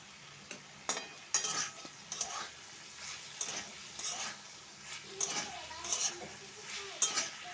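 Ginger, cumin and green chilli paste sizzles in a pan on a gas flame for a chalkumro stalk chorchori, with repeated stirring scrapes and light clinks of a spoon against the metal, close and fairly quiet.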